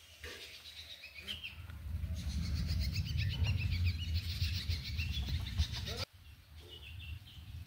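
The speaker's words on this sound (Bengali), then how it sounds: "মুরগি ছেড়ে দিয়েছে" Chickens freshly let out into a village yard under a cloudy, drizzly sky, clucking and chirping calls scattered over a low steady background, moderately close, with an abrupt break near the end.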